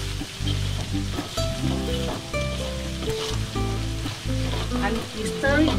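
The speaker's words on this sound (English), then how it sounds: "And you stir it until the garlic is brown and fragrant." Garlic and chilies sizzle and fry in a pan while being stirred, a steady loud crackle with occasional scraping, playing alone under a held musical background tone.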